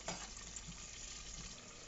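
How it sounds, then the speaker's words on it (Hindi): Potatoes sizzle and crackle in hot oil in a home kitchen, being fried before a mutton curry, a dense, steady frying hiss heard close up with no talking. "मटन के लिए मैं पहले आलू फ्राई कर लेती हूँ।"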